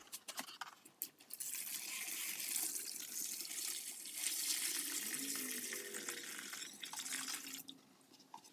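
Old Skilsaw parts are scrubbed with a brush under running water during degreasing, giving a close, steady hiss of water and bristle scrubbing that fades near the end.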